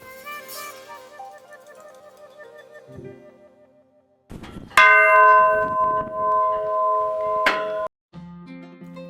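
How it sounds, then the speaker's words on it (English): A brass Windsor Castle ship's bell on the forecastle is struck, giving a loud, bright clang that rings out and decays, followed by a second strike, with softer metallic tones and knocks beforehand. "Another brass Windsor Castle bell was located here, just waiting to be rung."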